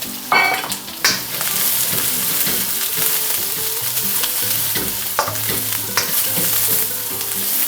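Onion and carrot sauté over high heat in a little hot oil for chicken chop suey, with a constant crackling sizzle and a few sharp stirring clanks near the start, no talking.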